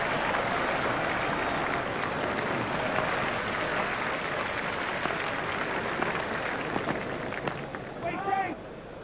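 A stadium crowd in an EA Sports cricket video game cheers and applauds in a loud, steady roar that continues throughout, with a commentator's voice under it.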